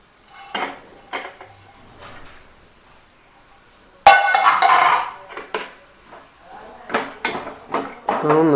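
A utensil stirs and scrapes inside a pot while cooking eggs with pepper, giving intermittent clattering metallic knocks and scrapes, quiet at first and then louder and busier in bursts.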